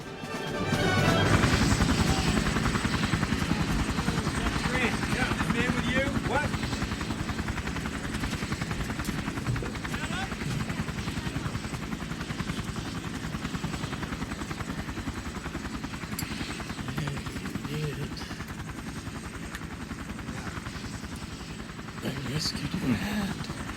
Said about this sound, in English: this is the scene inside the helicopter